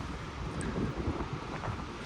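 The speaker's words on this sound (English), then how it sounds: "Very beautiful, very windy and cold." Wind gusting across an ocean beach with surf nearby on a cold day, a steady broadband roar with low rumbling buffeting of the microphone throughout, no voices.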